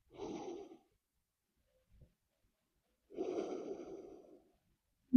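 Two slow, close breaths during a yoga dolphin pose, each a soft, airy exhale lasting about a second, separated by a quiet pause, with a faint tap near the end.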